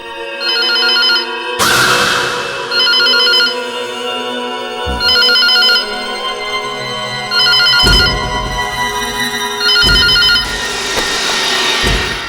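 A phone ringtone sounds loudly in repeated electronic bursts, about six rings with short pauses between them, no voices.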